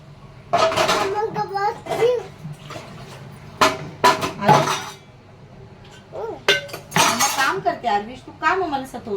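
Clattering of metal pots and utensils being scrubbed and set down, repeated sharp clinks and clangs, with a child and an adult talking over it.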